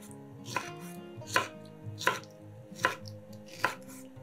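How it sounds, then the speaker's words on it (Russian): Canned pineapple rings are chopped into small cubes with a knife on a board: five firm, evenly spaced thuds about once every 0.8 seconds, close and clear, with nobody speaking. "Берем банку консервированных ананасов кружочками и нарезаем их небольшими кубиками."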